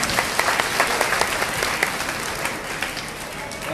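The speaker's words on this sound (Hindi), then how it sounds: "तालियां बजाओ।" Children at a summer camp in a Delhi temple hall clap together in a dense, steady round of applause, close and continuous, with faint voices underneath.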